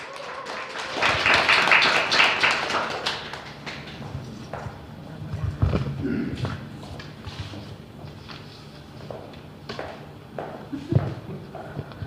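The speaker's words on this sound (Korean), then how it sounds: "많은 박수로 맞아주십시오." An indoor audience at a PM International consumer meeting breaks into a brief burst of applause that fades after a few seconds into scattered taps, footsteps and shuffling.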